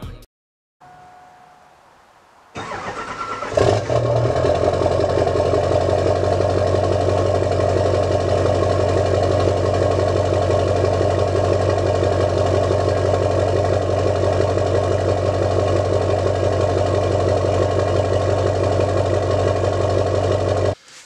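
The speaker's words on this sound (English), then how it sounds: "I hope you enjoyed that cold start" An LB7 Duramax diesel truck engine cold-starts after a short quiet stretch, cranking briefly before settling into a loud, steady, rumbling idle close by that runs unbroken for about seventeen seconds before cutting off.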